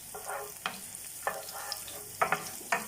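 Onion frying in hot oil in a pan for pancit canton guisado, a soft, steady sizzle punctuated by several distinct scraping strokes of a spatula at uneven intervals, with no talking.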